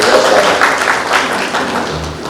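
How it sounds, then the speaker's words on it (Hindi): Brief applause from attendees at a UNICEF event in Raipur honoring journalists, a soft wash of scattered clapping heard under the room's reverberation. "मैं चाहूँगा तालियों से एक बार इन सबका"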